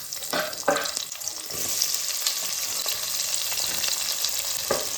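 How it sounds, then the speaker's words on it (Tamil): Cinnamon and cloves fry in hot oil in a pan for chana biryani, with a steady close sizzle and a few sharp crackles and stirring scrapes early on. "பட்டை கிராம்பெல்லாம் நல்லா பொரியட்டும்"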